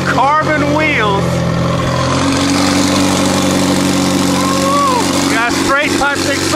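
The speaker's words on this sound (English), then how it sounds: "we got a tuned 720 with Vorsteiner kit and everything, carbon wheels." A tuned McLaren 720S twin-turbo supercar fitted with a Vorsteiner kit, carbon wheels and a straight-through exhaust, its engine running steadily and loudly up close while people talk over it.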